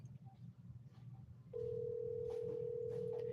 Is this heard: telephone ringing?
yes